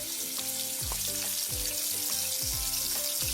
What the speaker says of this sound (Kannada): ಈಗ ಕಾದಿರೋ ಅಂಥ ಎಣ್ಣೆಗೆ ಕಲಸಿಟ್ಕೊಂಡಿರೋ ಅಂತಹ ಕ್ಯಾಪ್ಸಿಕಮ್ನ ಒಂದೊಂದಾಗೆ ಬಿಡ್ತಾ